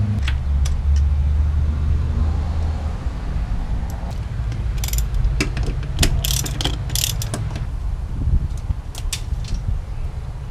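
Ratchet working loose a long bolt on a Toyota Supra 2JZ-GTE engine, with rapid clicking bursts over a steady background of garage hum, close and fairly loud.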